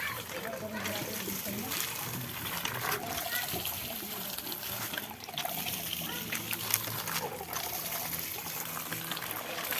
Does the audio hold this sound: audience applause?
no